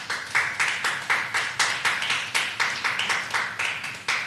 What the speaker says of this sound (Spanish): Si me estás entendiendo, dale un aplauso al Señor.